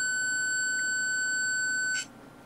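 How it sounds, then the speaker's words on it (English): A steady high-pitched electronic buzzer tone from a hobby electronics kit light alarm sounds for about two seconds, then cuts off abruptly, leaving quiet background. "adjust the control to the threshold and the buzzer stops"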